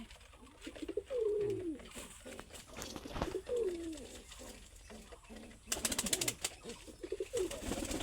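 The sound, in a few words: pigeons cooing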